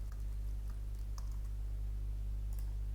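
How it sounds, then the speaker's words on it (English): Keys tap on a computer keyboard in a few quiet, scattered clicks over a steady low electrical hum. "As I begin typing"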